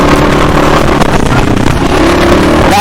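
Motorcycle engine droning loudly and continuously while riding along dirt field roads, close and steady with clattering and wind buffeting.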